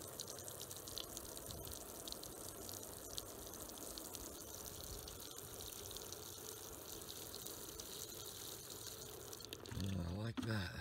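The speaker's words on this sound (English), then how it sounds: "when we put some water into our downspout in splash" Water poured into a house downspout runs out onto a splash block near a basement wall, a steady close trickle and splash across the whole stretch with heavier gurgling at the end.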